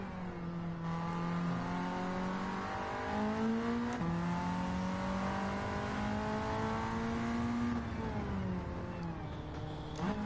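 Sierra RS500 race car engine in Gran Turismo 7 drones loud and close for the whole stretch, its pitch climbing steadily and dropping back at each gear change, with no talk over it.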